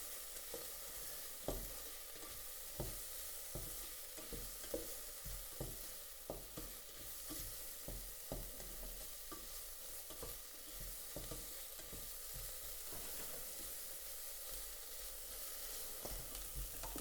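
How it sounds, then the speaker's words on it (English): Vegetables for lasagna sizzle steadily in a frying pan, with a soft constant hiss broken by repeated scraping stirs of a utensil at a close, quiet level. "Just keep stirring it around for a couple of minutes so that it doesn't burn."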